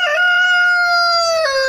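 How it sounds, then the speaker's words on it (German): A rooster on a farm crows once, loud and close. The single drawn-out call holds steady and then breaks at the end. "wenn hier morgens dann der Hahn kräht"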